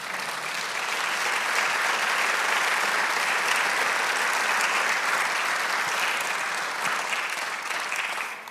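Church congregation applauding together, a dense steady wash of clapping that holds at full strength for several seconds without speech.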